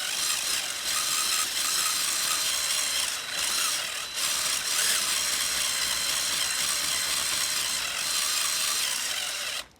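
A power string trimmer's cutting head spinning at half trigger, a loud continuous whirring buzz that holds steady for several seconds with slight dips, then cuts off abruptly.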